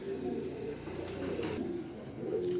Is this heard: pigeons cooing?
yes